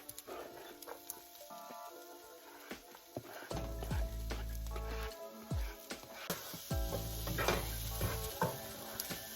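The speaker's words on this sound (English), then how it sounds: "I'm gonna throw in the garlic" Garlic sizzles in a frying pan while being stirred, soft crackling frying noise with scattered clinks and scrapes of a utensil against the pan, fairly quiet and close.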